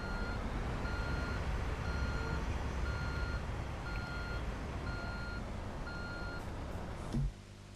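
A truck in the Construction Simulator 2 video game reverses, its backup alarm beeping in a steady, evenly spaced series over a low engine rumble, which stops with a brief thump near the end.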